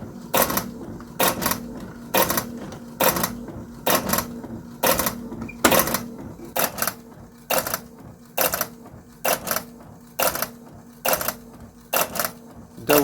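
An inkjet printer feeding 135 gsm glossy paper runs through a steady, repeating cycle of short mechanical bursts, close and fairly loud, with brief pauses between each pass and no talking.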